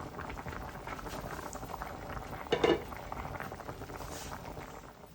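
Sinampalukang manok broth, a Filipino chicken soup soured with tamarind, boils in a covered pot with a steady bubbling patter and a brief louder burble midway. No one speaks.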